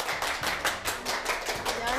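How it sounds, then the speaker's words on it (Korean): Studio audience applause welcoming a lecturer onto a Korean lecture show, a brisk run of claps with irregular rhythmic peaks, fairly close and alone. "큰 박수로 모셔볼게요"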